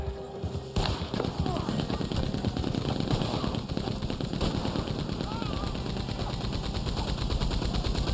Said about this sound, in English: You'll work on the machine gun.